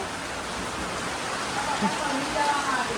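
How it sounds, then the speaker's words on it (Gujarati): Heavy rain roars in a constant wash of noise, with faint voices or squeaks poking through near the end. "ફૂલ વરસાદ ચાલુ છે"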